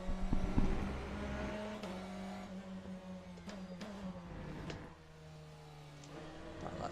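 Race car engine in Le Mans Ultimate revving with light throttle, a steady harmonic drone that climbs and shifts pitch at each gear change, with a small dip near the end before it builds again.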